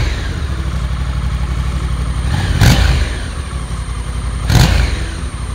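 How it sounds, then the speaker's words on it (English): A 2020 Honda Africa Twin motorcycle engine idles steadily and close, with two sharp throttle blips a couple of seconds apart. "Ladies and gentlemen, the 2020 Honda Africa Twin."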